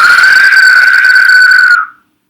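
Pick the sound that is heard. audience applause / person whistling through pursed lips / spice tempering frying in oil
person whistling through pursed lips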